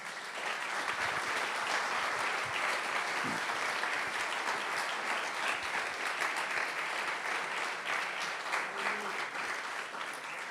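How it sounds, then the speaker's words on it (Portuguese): A church congregation applauds, a steady, even wash of many hands clapping that continues for about ten seconds with faint voices underneath. "Aplauda o Senhor, por favor."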